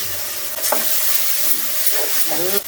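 Sambar powder and ground paste are stirred into hot oil for a tender banana leaf kuzhambu, a short burst of close sizzling broken by brisk scraping strokes of the spoon.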